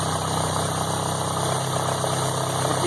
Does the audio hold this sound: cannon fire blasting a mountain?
no